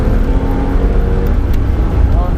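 A race car at Mondello circuit accelerating flat out down the straight, its engine droning loud and steady throughout, with a voice talking over it.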